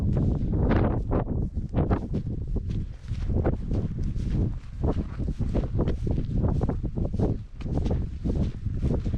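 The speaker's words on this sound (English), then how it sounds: "there's a bit less wind at this side of the hill, but it still is a wee bit windy" Gusty wind on an open hillside in Scotland buffets the microphone in uneven surges and lulls, a rough, close roar that swells and fades repeatedly without any voices.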